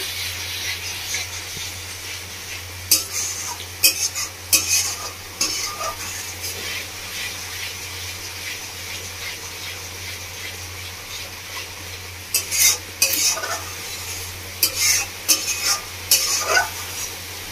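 Spice masala frying in a pan in a Bengali village kitchen for kalbos fish kalia, a steady soft sizzle broken by bursts of scraping spoon strokes as it is stirred.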